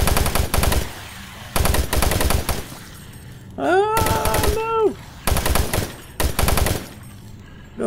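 Bursts of rapid automatic gunfire in the shooter game Doom 3, loud and close, firing in several separate volleys with short pauses, while a person briefly talks between shots.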